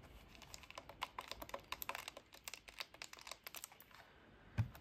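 Keys on a mutantC v5.1 handheld computer keyboard are pressed one after another during assembly, giving a steady run of close, crisp clicks with one slightly louder tap near the end.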